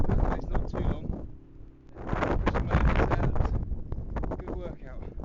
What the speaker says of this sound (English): It's just so windy along that ridge.